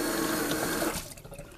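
Water pours from a kitchen tap to wet a spatula while bread dough is made, a steady close splashing rush that thins out and fades after about a second.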